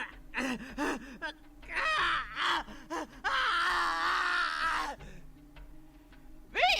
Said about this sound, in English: Oh my god, them screams sound too authentic